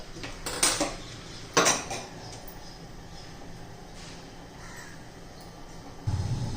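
A metal kadhai clanks down on the stove in a couple of sharp knocks, followed by quiet room tone with faint crow caws in the background.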